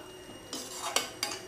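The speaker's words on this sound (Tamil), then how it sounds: "இப்போ நல்லா அதை கிளறி கொடுத்துக்கலாம்." Prawn and ridge gourd gravy is stirred in a pan, with three brief soft scrapes and a metallic clink from the spoon against the vessel, quiet and close.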